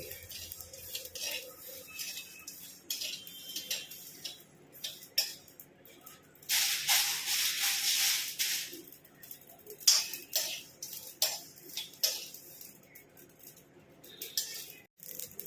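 Black mustard seeds (rai) roasting dry in a pan while making homemade sambar powder, giving scattered tiny pops and ticks, with a brief hissy burst midway and soft pan clinks.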